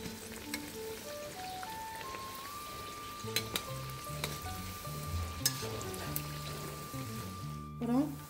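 Sprouted black chickpea vada deep-fry in hot oil, a soft, steady sizzle that runs quietly throughout. Speech and light background music sit over it.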